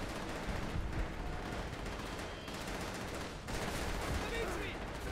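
Rapid gunfire from an MG42 machine gun in the video game World at War, a dense, continuous burst of shots layered with other battle noise and a voice speaking over it, loud and sustained throughout.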